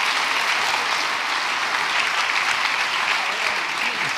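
At a church retreat, a congregation gives a loud, dense burst of applause, continuous close clapping that fills the room without pause for several seconds.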